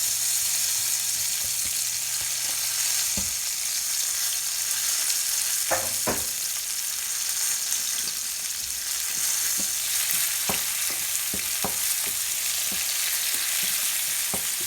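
Garlic, olives and tomatoes sizzle steadily in a hot pan on a stovetop, a continuous crackling fry broken by a few sharp utensil clicks and stirring knocks.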